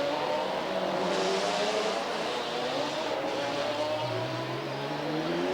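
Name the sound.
GT race car driven around Helsinki street circuit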